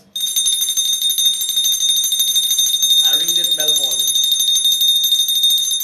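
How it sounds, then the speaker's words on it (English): A bell rung repeatedly at a community gathering honouring mothers, producing sustained bright ringing tones that continue steadily throughout, with a brief spoken voice partway through. "I ring this bell for the mothers"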